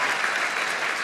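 Audience at the White House Correspondents' Dinner applauding, a dense, even wash of clapping from a large crowd, sustained and fairly loud with no voices over it.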